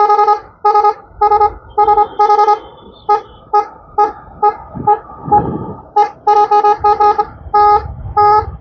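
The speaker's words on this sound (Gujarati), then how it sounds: "હોર્નમાં કઈ પ્રોબ્લેમ થયો મિત્રો" A faulty car horn honks in repeated short bursts, loud and close, with a brief engine rumble in the middle.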